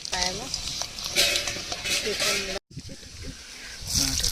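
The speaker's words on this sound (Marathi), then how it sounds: "सुरुवातीला तेल ओतून घेऊयात आधी लसूण टाकलंय आपण थोडं तळून देऊयात लसूण" Garlic frying in oil in a pan, a soft steady sizzle and hiss with occasional stirring clatter, close by, while a person talks over it.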